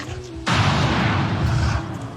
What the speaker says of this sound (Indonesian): Lalu suara tembakan terdengar.